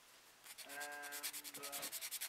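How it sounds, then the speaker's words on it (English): Plastic part from an AMT AT-AT model kit being worked with a hand file to trim an uneven, protruding fit area, giving a soft rasping rub that starts after a quiet moment and turns into rapid repeated back-and-forth strokes, close and alone. "it's probably best just to use the file"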